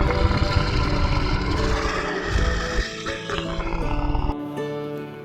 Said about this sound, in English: Lion, very dangerous lion.